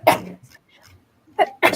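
A single loud, close sneeze bursts out, then after a short quiet gap a voice speaks briefly.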